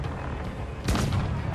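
Ship cannon fire in a pirate video game during a fort capture, a single loud, deep boom partway through that rolls out over a constant low rumble of battle ambience.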